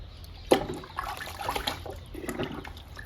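Liquid fertilizer poured onto indoor plant cuttings, a soft trickling splash with a brief sharper splash near the start, fairly quiet and close.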